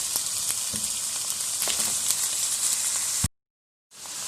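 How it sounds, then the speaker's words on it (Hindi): Garlic and ginger sauté over low heat in a pan, giving a dense, steady close sizzle that cuts off abruptly to silence before resuming faintly at the end. "इनको भी हम कर लेंगे सौते। इसको हमें 2 मिनट पकाना है"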